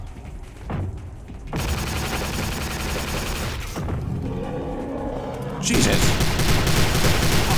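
Heavy gunfire from an enemy turret in the video game Prey, loud bursts of rapid shots that swell and surge near the end, with a man's startled exclamations over the top.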